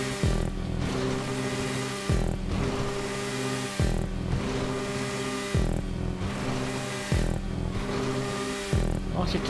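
A motorcycle in GTA V Online parkour revs in repeated surges of rising, buzzing engine pitch, each broken by a sharp drop about every two seconds, loud and close, with someone talking over it.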